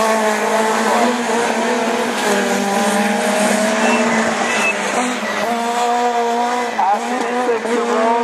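Rallycross race cars on the Lessay circuit in a division 4 heat: engines drone and rev steadily throughout, loud and sustained, with a French commentator talking over them.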